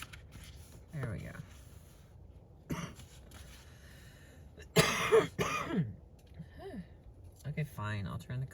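A person coughs and clears their throat in short, harsh bursts inside a parked car, scattered between quiet pauses and a few spoken words, the loudest fit of coughing coming in the middle.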